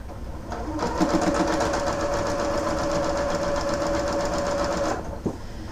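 Sewing machine chain-sewing leftover quilt binding strips, a steady close motor whir with rapid needle clatter running for about four seconds, then stopping.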